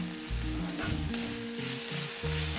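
Okra (ladies finger) stir fry sizzles hard in an open pan, a dense, continuous hiss that stays loud and close throughout over a low droning hum.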